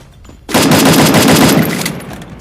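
A loud, sustained burst of rapid automatic gunfire from the mobile shooter game Free Fire starts abruptly and rattles on without a break, slowly fading toward the end.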